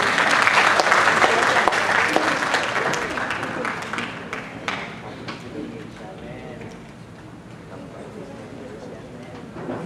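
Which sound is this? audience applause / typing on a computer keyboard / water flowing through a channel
audience applause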